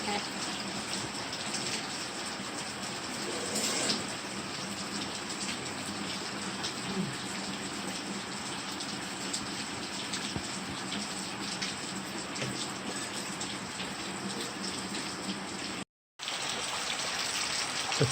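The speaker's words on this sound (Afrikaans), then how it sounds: "Maar dit reën lekker." Steady rain falls outdoors in the African bush near Phalaborwa, a constant soft hiss of drops that stays even throughout with faint background sounds.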